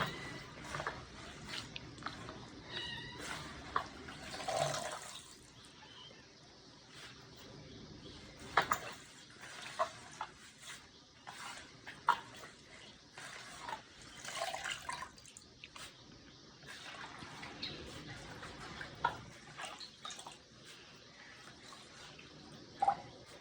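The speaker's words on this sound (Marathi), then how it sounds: "शेगलाची भाजी ती आता धुवून घेणार आहे शेगलाची भाजी धुवून घेतोय" Wild leafy monsoon greens being washed in water, with soft splashing, dripping and trickling running faintly and steadily throughout, close by, with no talk.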